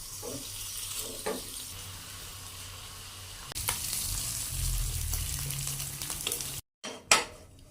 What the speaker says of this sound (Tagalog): Prito na natin siya.